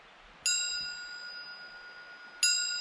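A bell hanging in a tree outdoors at night gives two clear bright dings, the first near the start and a second about two seconds later, each ringing on with a long metallic decay over faint background hiss.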